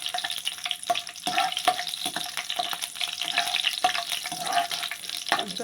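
Chopped cashews and almonds frying in a pan for jaggery carrot halwa, a close, crackling sizzle punctuated by repeated sharp clinks and scrapes of a spoon against the pan.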